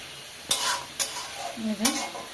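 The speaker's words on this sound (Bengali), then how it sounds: "আর এখানে মশলাটা কষা নিচ্ছি, অল্প মশলা দেবো, বেশি মশলা দেবো না" Chicken stirring and frying in a pan with hand-ground spice paste, with a few scraping stir strokes over a steady soft sizzle, close and moderately loud.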